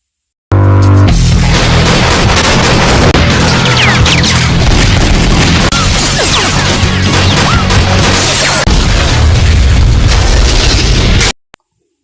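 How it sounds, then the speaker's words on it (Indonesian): Film gunfight: loud, dense bursts of shots and crashing impacts pile up almost without pause for about eleven seconds, then cut off abruptly. "Namun Nicholas menolaknya dan terjadilah adu tembak."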